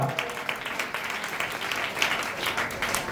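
A church congregation at a Sunday service clapping hands loudly together, a continuous crowd of rapid claps sustained throughout, with a voice faintly present underneath.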